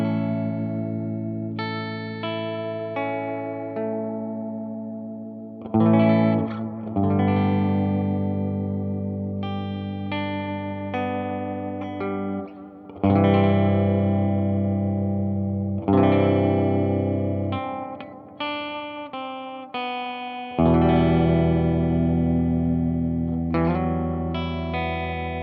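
Sustained chords played through a Behringer Vintage Time Machine delay pedal with vibrato on the repeats. New chords strike every few seconds, and warbling echo tails ring on between them, with no talking.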